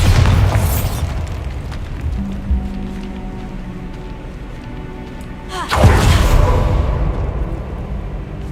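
A Bombarda spell blast from the video game Hogwarts Legacy: a loud booming explosion bursts out near the start, and a second heavy boom hits around the six-second mark, each trailing off into low rumbling debris with ambient game sound between.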